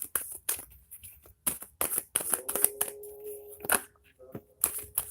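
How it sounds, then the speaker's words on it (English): Tarot cards being shuffled in quick bursts of crisp riffling and slapping, close up, with short pauses between runs and a faint voice or hum underneath. "Okay, they want to shuffle."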